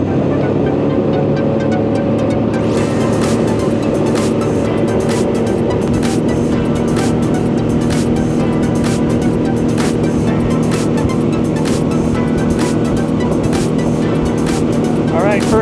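A motorboat engine drones loudly and steadily on the water at a fishing lake, a constant close rumble with wind buffeting throughout.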